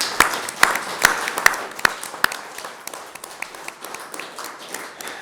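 An audience at a treaty authority signing ceremony on Gadubanud Country claps, starting with loud, spaced-out claps that thin into softer, scattered applause.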